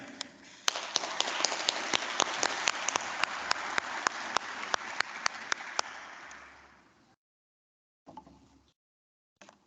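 Applause at a 2022 City Colleges graduation ceremony, a dense crowd clapping steadily for about six seconds with sharp individual claps standing out, then fading away, followed by a brief separate burst of clapping.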